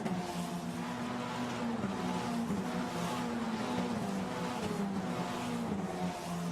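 Formula Renault Eurocup cars accelerate at Imola, engines howling past the timing line in a tight group, a steady, fairly distant high-pitched drone with shifting pitches as several cars go by, no talking.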